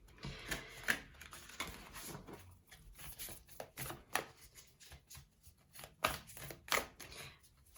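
Deck of oracle cards being shuffled in a quiet room: soft, irregular riffling and slapping of card stock in short bursts, close and fairly faint, with no talk.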